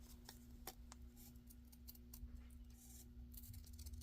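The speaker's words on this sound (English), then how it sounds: "I'm just going to come along with my scissors" Scissors snip a few quick cuts to trim the edge of a folded paper shirt pocket for a junk journal, close and quiet, each cut a short crisp click.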